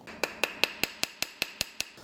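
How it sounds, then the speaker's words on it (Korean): A hammer strikes the edge of a leather clutch bag to flatten it, nine sharp, evenly spaced taps in steady rhythm, close and clear with no talk. "망치로 두들길 겁니다. 두들겨서 여기 납작하게 고정을 시켜줄 거고요."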